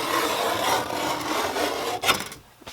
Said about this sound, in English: I can just drag it along here and scribe it with the caliper tip